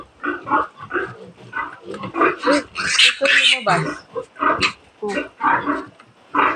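Piglets squeal and grunt in rapid, overlapping bursts close by while a person speaks over them.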